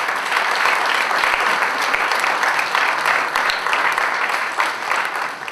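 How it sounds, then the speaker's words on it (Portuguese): Sustained applause from an audience at the Tâmega regional athletics and adapted sports gala, steady, dense clapping that holds at full strength throughout before easing slightly at the end. "Uma salva de palmas para o seu vereador, por favor."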